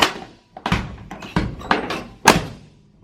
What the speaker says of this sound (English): door shut really good on it